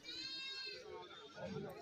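Goats at a goat market bleat in a brief, faint burst while someone talks over them at close range.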